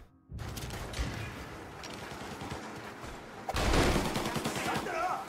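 Gunshots in the Mafia video game: a dense clatter of shots and action noise that swells into a louder, heavier stretch of firing near the end, with some voice mixed in.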